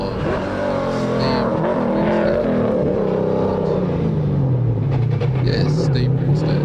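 A VL Commodore race car climbs a mountain hillclimb course, its engine revving hard through gear changes with pitch rising and dropping as it passes, loud and fairly close, while a voice talks over it.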